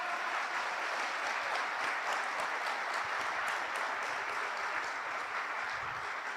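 Steady, dense applause from a large church congregation fills the space, sustained clapping throughout with no voices rising above it.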